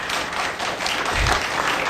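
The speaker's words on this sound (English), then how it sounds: "go right ahead and clap" Audience at a city meeting clapping, a dense, continuous wash of applause, fairly loud and steady throughout, with a low thump in the middle.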